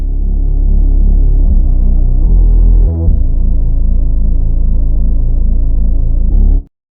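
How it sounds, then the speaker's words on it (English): Deep sub bass synth in a simple hip-hop beat, a sustained low throbbing hum with steady melodic layers above, playing loud and continuous with a brief dip near the middle before cutting off at the end. "Then the last thing I did was I added this sub bass,"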